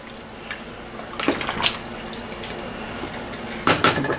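Chicken bones are stirred in a pot of broth, giving soft watery sloshing with a few brief clinks of a utensil against the pot, close and moderately quiet.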